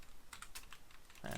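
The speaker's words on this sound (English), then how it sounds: "I have to type this out properly now." Quick keystrokes on a computer keyboard while writing code, a light, uneven patter of close clicks over a quiet room, ending in a brief louder rustle.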